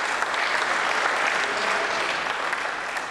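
A crowd applauds at a professional pool match during the 2015 World Pool Masters, dense, sustained clapping that fills the whole moment at an even, loud level.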